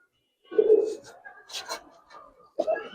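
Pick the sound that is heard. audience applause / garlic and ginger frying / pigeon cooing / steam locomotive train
pigeon cooing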